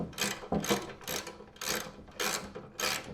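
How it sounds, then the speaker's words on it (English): A ratchet with a number 10 socket loosens bearing cap bolts on a Honda snowblower, six quick bursts of clicking strokes repeating in an even rhythm, close and fairly quiet. "we got ourselves a number 10 socket. We're going to take the bearing cap off first. So, get in here, ratchet this off."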